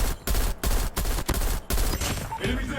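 Bursts of rapid M16 assault-rifle fire in Call of Duty: Mobile, loud and close, in several short volleys with brief gaps between them.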